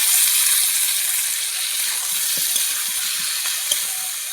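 Pointed gourd and potato frying in a spice paste of oil, a loud, steady sizzle and hiss close up with faint stirring taps underneath and no voices.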